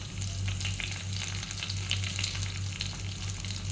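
Garlic and dried red chilies fry in hot oil for a Karnataka-style rasam, giving a steady, close crackling sizzle with sharp pops throughout and no voices.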